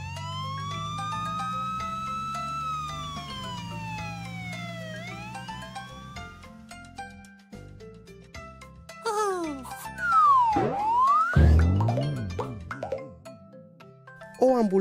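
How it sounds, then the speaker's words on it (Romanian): A police car siren sweeps up and down amid bright cartoon music and playful effects in a children's educational animation about finding hidden vehicles; the wailing tones rise near the end over busier sounds. "O mașină de poliție."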